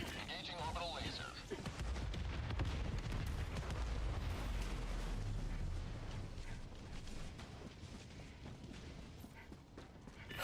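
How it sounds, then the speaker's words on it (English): A video-game orbital laser strike unleashes a long, rumbling barrage of blasts and crackling impacts, loud at first and then slowly fading, with voices faintly mixed in. "Engaging orbital laser."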